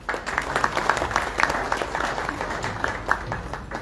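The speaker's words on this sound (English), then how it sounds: "a huge round of applause for sir" Audience at a state engagement workshop inauguration in Goa breaks into steady, dense applause, many hands clapping together at close range without letup.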